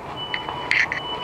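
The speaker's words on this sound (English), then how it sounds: "Alarm going off from the dust getting into the smoke alarms here." Electronic beeps from smoke alarms set off by dust during a Baghdad dust storm, inside a temporary living and logistics facility; a few short high-pitched chirps, with a brighter cluster of beeps near the middle.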